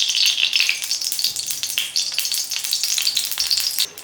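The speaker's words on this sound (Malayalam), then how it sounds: "നമ്മൾ അതിലേക്ക് 1 ടീസ്പൂൺ നെയ്യ് ഒഴിച്ച് കൊടുക്കുന്നുണ്ട്." A teaspoon of ghee sizzling in a hot pan on the stove, a steady bright crackle and hiss that runs without a break, close to the mic, with no talk over it.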